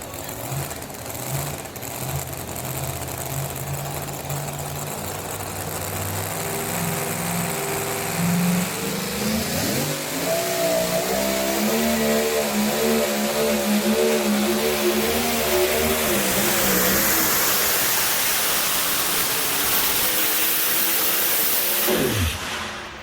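A Packard-powered two-wheel drive pulling truck called the Untouchable roars down the track at a tractor pull, its engine climbing in pitch and holding a loud, sustained howl for about twenty seconds before cutting off abruptly.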